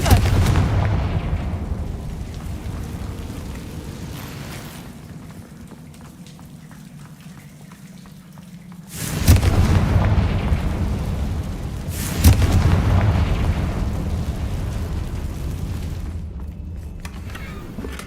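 Confringo blasting-spell explosions in Hogwarts Legacy: two sharp, loud bursts land a few seconds apart, each followed by a rumbling, rain-like crackle that slowly fades, with a quieter lull between them.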